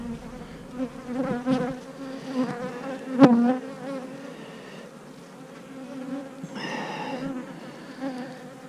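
Honey bees buzzing around an open hive brood frame, a close, steady multi-toned hum of many insects with individual bees droning past, under occasional faint handling sounds.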